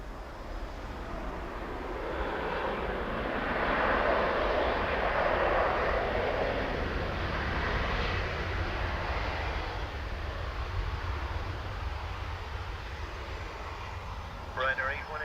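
A Ryanair airliner at Dublin Airport produces a broad, steady engine roar that swells and slowly recedes, heard from a distance outdoors with faint radio-style voices in the background.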